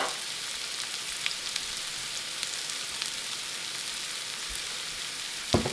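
Mushrooms fry in a pan with a little oil, giving an even, moderate sizzle with a few faint clicks and a sharper scrape near the end, no voices.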